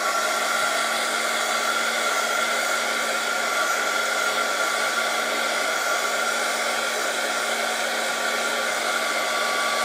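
A heat tool blows continuously at close range with a steady even whir while watercolour bookmarks dry, and no other sounds come through.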